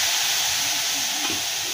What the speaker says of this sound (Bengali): দেখো মশলাটা ভালোভাবে ভাজা হয়ে গেছে।